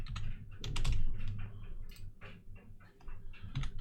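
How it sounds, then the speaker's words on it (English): Fast, uneven clicking of a computer keyboard, heard close with bursts of keystrokes and short pauses, over a low steady hum and no speech. "I can feel someone's typing something."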